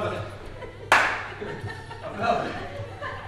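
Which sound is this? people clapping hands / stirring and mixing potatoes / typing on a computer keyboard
people clapping hands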